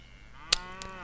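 A single short cattle moo sounds faintly in the Civilization V strategy game, with a couple of soft clicks around it and no talking.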